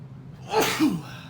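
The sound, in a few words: sneeze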